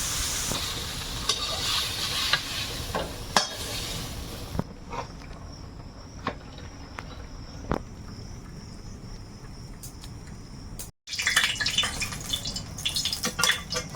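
Food frying in oil in a wok or kadai, with ground cumin added, gives a continuous close sizzle scattered with sharp pops and clicks, briefly cut off before resuming louder, with no talking.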